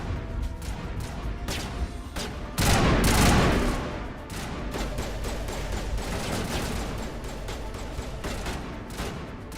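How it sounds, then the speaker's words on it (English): Suppressing gunfire in the video game Mass Effect, rapid repeated shots crackling throughout with a louder crashing burst early on, continuous and close. "Suppressing fire."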